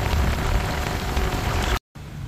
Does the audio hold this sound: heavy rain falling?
yes